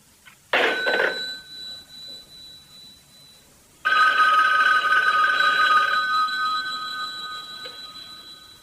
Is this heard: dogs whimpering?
no